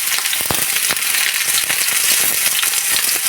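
Chopped medium-size onions fry in hot oil for a pui shak bhaji, a loud, close, continuous sizzle with scattered sharp crackles and pops throughout.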